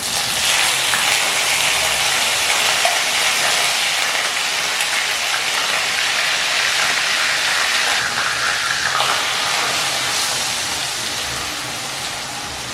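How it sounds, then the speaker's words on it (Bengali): Ground onion paste frying in hot oil with whole cumin over a low-to-medium flame, a loud, steady sizzling hiss that holds evenly for the whole stretch and eases off slightly toward the end. "লো টু মিডিয়াম ফ্লেমে পেঁয়াজটা একটু রং আসা পর্যন্ত কষিয়ে নেব।"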